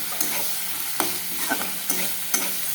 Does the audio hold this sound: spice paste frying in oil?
yes